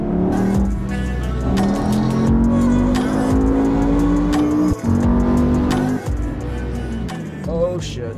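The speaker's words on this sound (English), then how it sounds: "I just really like the sound of cars." A tuned BMW M5 E60 with a 754 bhp engine revs hard and close, its loud droning tone climbing steadily, then briefly dropping and resuming, with sharp ticking pops layered over the roar.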